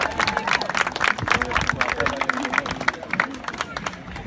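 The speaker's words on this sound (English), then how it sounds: "How about another round of applause for all our anniversary couples and our lovely honeymooners" A crowd at a Hawaiian-themed show claps and cheers for anniversary couples and honeymooners, dense applause with chatter woven through that fades slightly toward the end.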